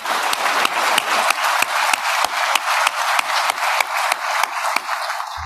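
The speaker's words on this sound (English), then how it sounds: "if we could give a round of applause to our EM colleagues," Audience applause at an NCW 2023 keynote address, a steady, close burst of many hands clapping in an even rhythm for several seconds before it tapers off.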